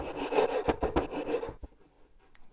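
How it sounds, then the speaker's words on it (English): Hand rasp filing the wooden corners of a compound-angle butler's tray, a few close, rough rasping strokes in quick succession, then quiet with a faint scrape at the end. "down the higher inside short sides to the level of the outside using the rasp"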